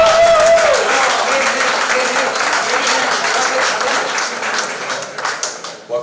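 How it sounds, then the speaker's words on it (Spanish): A political rally audience in Madrid bursts into loud, sustained applause, a dense roar of many clapping hands close and full, with a voice briefly heard at the start as the clapping swells and holds. "¡Un aplauso para el camarada!"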